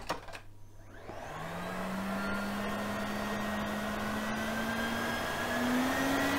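A cordless vacuum cleaner on its minimum battery-powered setting starts up and runs with a steady, fairly quiet hum and a faint whine that rises slightly over time.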